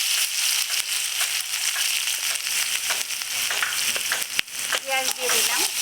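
Onions frying in hot oil for a village-style egg curry, a dense steady sizzle and crackle throughout with scattered sharper pops, loud and close, with a voice briefly heard near the end.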